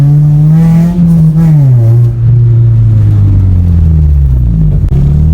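A 1996 Toyota Corolla with a 4AFE engine and swapped 4AGE BT transmission drives while fourth gear is tested, the engine droning loud and close as pitch rises, dips with gear changes and settles into a lower steady hum.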